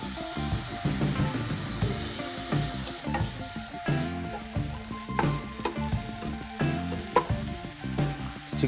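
Finely chopped chicken sizzles steadily in a hot pan while being stirred, with repeated scraping strokes over the continuous frying hiss, close and moderately loud, with no talking.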